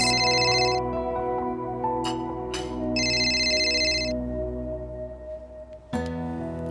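A phone rings with a repeating electronic tone, bursts of ringing broken by short pauses, steady and fairly clear over a humming background.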